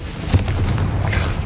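Confringo fire spell in Hogwarts Legacy blasting and burning away cobwebs in a decaying catacomb: a short, punchy boom, then crackling, whooshing burn noise over a low rumble.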